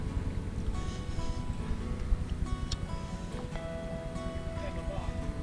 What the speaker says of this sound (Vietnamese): xe ghe này chạy quá hay